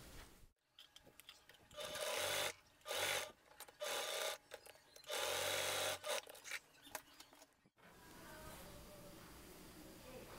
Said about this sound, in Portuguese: Eu vou passar a costura para fechar aqui na base e um dos lados.